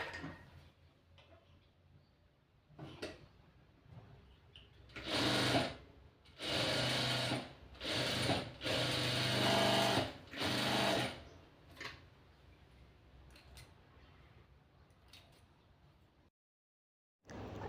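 A sewing machine runs in several short, close bursts of stitching on a lined blouse, separated by quiet pauses and light ticking from handling the fabric.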